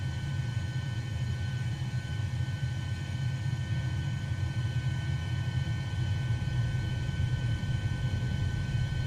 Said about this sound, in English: A sound glitch in Microsoft Flight Simulator.